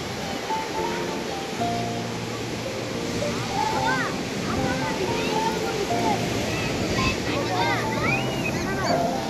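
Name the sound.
sea waves on the beach at Vizag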